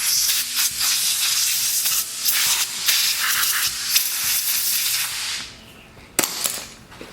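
Compressed air blowing debris off engine parts, loud close hissing in fluttering bursts for several seconds, then tapering off, followed by a sharp tap.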